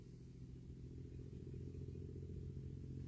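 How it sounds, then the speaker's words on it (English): An old motorbike engine runs steadily at a distance, a low, rough, continuous rumble with faint clatter that holds constant throughout. "Motorbike, sounds like. An old one."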